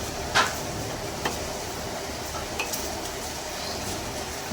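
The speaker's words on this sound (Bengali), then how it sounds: "কাজু আর চালমগজের এই পেস্টটাকে এবার আমি ভালো করে মশলার সঙ্গে আরও কিছুক্ষণ ধরে কষিয়ে নেব" Cashew and melon seed paste cooking with spices in a pan, a low steady sizzle with a few faint spoon clinks against the metal, close and quiet, no voices.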